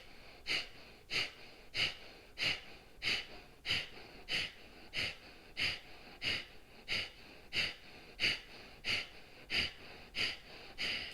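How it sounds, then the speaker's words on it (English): A person performs energizing yoga breathing, pushing out sharp, rhythmic exhales through the nose roughly once per second in a steady series of about fifteen puffs, close and fairly soft. "It's a sharp exhale."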